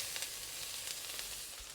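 Minced ginger sizzles in a very hot wok over low heat, a steady bright hiss with faint crackles and no speech.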